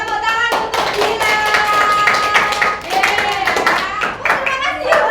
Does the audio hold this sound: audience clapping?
yes